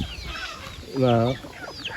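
A three-year-old rooster gives a single loud, drawn-out clucking call close by, with faint scattered chicken sounds before and after.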